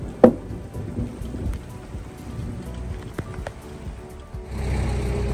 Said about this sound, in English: it just started pouring down rain